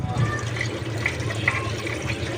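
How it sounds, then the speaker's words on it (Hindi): Steady broadband rush of tap water running hard into a vessel while rice soaks during langar preparation at a shrine's urs gathering, continuous and close with no talk over it. "क्या इसको टूटी को स्लो कर दूं?"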